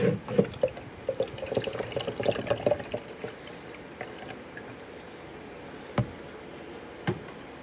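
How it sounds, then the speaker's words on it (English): Liquid formula glugs from a carton into a blender cup in an uneven splashing pour that tapers off into a few faint drips and small knocks, with no talking. "I pour 1 carton of formula into my blender cup."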